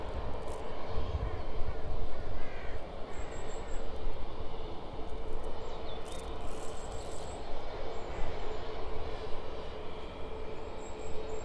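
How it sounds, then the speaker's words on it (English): At East Midlands airport in the early morning, an aircraft descends toward the runway, its distant engine roar a broad continuous rumble, with occasional bird calls and faint voices nearby. "The next aircraft then gradually making its way down towards us."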